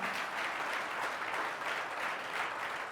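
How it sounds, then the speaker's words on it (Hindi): A church congregation claps loudly and steadily, a dense, continuous wash of applause throughout with no voices. "जोरदार ताली बजाएंगे जो लोग विश्वास करते हैं"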